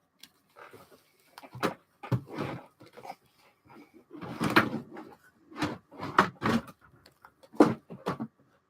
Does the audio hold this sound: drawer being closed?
yes